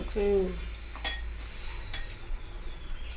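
Spoon clinking and scraping against a metal bowl while spices are mixed into biryani ingredients, with a few sharp clinks and soft stirring sounds.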